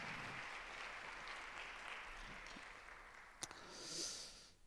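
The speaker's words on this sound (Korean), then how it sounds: "자, 우리 다시 한번 박수하겠습니다." Congregation clapping during a young adults' worship service at a Korean church, a soft, steady round heard from a distance, with a sharp knock and a brief murmur near the end.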